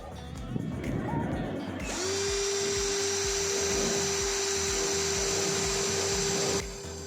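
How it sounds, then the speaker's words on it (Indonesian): A cordless impact drill with a 6 mm steel bit bores into 4 mm thick steel, a loud continuous whine that starts abruptly and holds steady for several seconds before it cuts off. "Terakhir saya akan mengebor besi ukuran 4 mm ketebalannya menggunakan mata bor besi"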